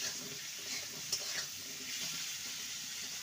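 Potato pieces sizzle softly in a pan while being stirred over low to medium heat, a faint steady frying hiss with light scraping, heard alone.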